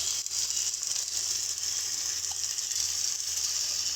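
Bottle gourd cooked with lentil-dumpling bori and chopped coriander sizzles steadily in a pan as it is stirred, a close continuous hiss with faint scraping and no talking.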